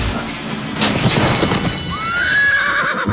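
A horse whinnies loudly at a harness racing track in Alberta, a rising, wavering neigh over rumbling hoofbeats and crowd noise.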